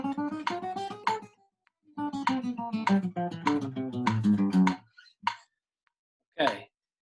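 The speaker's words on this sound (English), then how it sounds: "you can play 16th notes" Acoustic guitar picked in a steady run of sixteenth notes, four even plucks per beat, ringing clearly and close with no talk, then a pause and a few isolated scraping strums near the end.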